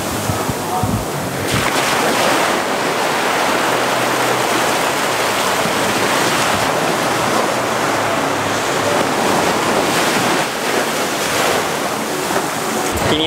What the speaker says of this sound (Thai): นอนๆอยู่น้ำทะเลก็มาสาดถึงปลายเท้าได้เลยนะครับ